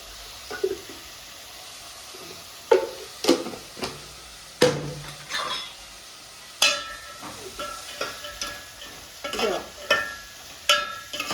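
Dry chilli and kitchen masala stirred in a frying pan, a soft sizzle under sharp scraping and tapping knocks of a spoon against the pan, close by, irregular, and without speech.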